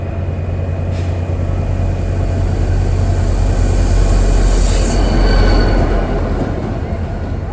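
An NJ Transit train led by a GP40-2 diesel locomotive, number 4303, rolls past close and loud with a constant rumble and drone. Wheels squeal in a high thin tone partway through, and no voices are heard.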